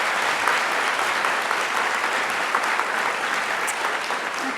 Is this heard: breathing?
no